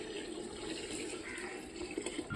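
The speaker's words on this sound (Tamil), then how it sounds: "தேவையான அளவு தண்ணி ஊற்றிக்கலாம்." Water being poured into a pot while cooking biryani, a soft, steady splashing and trickling stream that runs continuously at close range with no talking.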